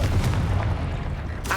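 A Confringo blasting spell explodes in Hogwarts Legacy as a deep, rolling boom that rumbles steadily, with a sharper burst at the end.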